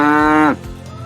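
A cow lets out one loud, close moo lasting about half a second, which then breaks off into quieter low background sound.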